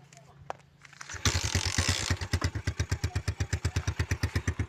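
A scooter starts and rides along near Barangay Suba, its engine rising into a loud, steady rhythmic pulsing that runs close and continuous through the second half after a quieter start.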